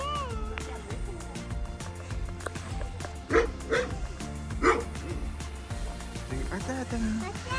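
Baris, a dog at an animal shelter, gives a few short yipping barks and whimpers in separate bursts, with people's voices in the background.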